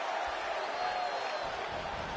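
Wrestling arena crowd noise in WWE 2K24, a steady wash of cheering spectators at moderate level, continuous with no break and faint murmur throughout.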